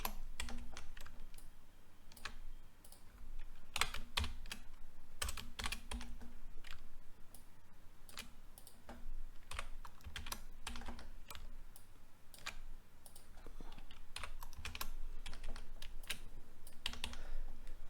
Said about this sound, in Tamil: இப்போ ரேண்டமாக டைப் பண்ணிட்டோம் நம்ம